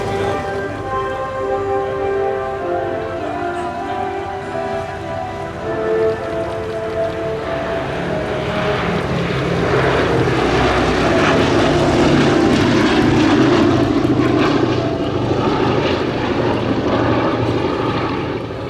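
Four radial propeller engines of the B-17 Flying Fortress warbird Sally B rumble steadily as it runs down the flight line at the Headcorn airfield display, growing louder and rougher toward the middle and end.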